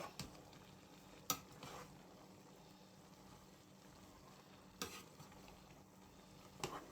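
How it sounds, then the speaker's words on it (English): A vegetable soup (edikang ikong) is stirred in a pot, with faint, sparse spoon scrapes and a few soft clinks over a low, quiet background. "I'm just going to stir."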